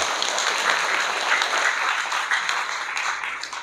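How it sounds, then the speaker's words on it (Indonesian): Applause from an audience at a gathering in Kampung Toleransi Jamaica, a dense steady wash of many hands clapping, fairly close and continuous, with no talk over it. "Ya, tepuk tangan dulu ya"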